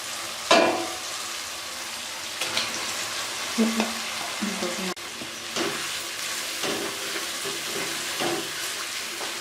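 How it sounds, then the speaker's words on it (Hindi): Chicken pieces frying in a ghee masala, a loud, close sizzle broken by scraping stirs and a few clanks of the spoon against the pan, with no talking. "अब इसको मैं इस मसाले के साथ तकरीबन 4 मिनट तक भूनूंगी।"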